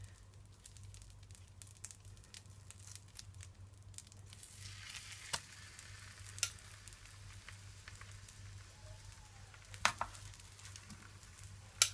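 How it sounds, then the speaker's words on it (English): Bread frying in melted butter in a pot over a medium stove for ripe plantain French toast, a quiet steady sizzle with a few sharp crackles and pops, no talking. "so in this pot I've got at least 2 spoonfuls of butter, and as you can see, it is all melted. So now I'm gonna add my bread to it."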